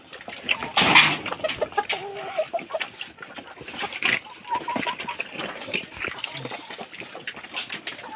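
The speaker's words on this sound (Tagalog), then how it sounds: "Mga manok po guys" Backyard chickens clucking close by in bursts of sharp calls, loudest near the start and then scattered and uneven, with other small farmyard noises around them.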